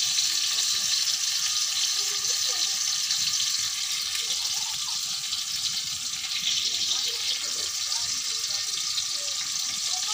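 Onions fry in a large pot for beef bhuna khichuri, giving a steady, bright sizzle that holds evenly throughout without any voices.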